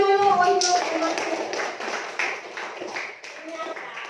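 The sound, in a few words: class clapping for the market promotion function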